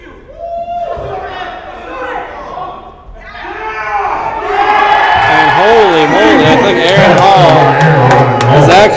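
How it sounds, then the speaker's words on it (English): Basketball arena crowd at a Heat vs. Warriors quarterfinal playoff game erupting into loud, sustained cheering and shouting that swells over several seconds, with an announcer's voice talking over the roar. "the crowd is going wild"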